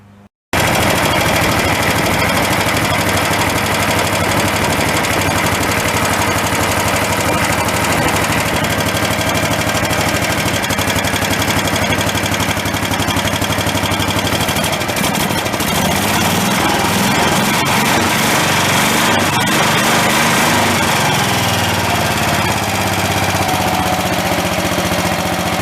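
A garden tractor engine runs loud and close, chugging rough and uneven at idle and never settling into a smooth rhythm, with the sputter shifting slightly partway through.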